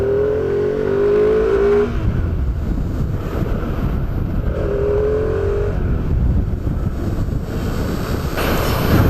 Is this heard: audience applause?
no